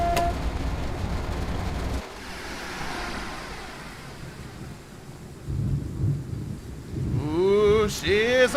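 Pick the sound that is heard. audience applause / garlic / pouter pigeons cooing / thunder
thunder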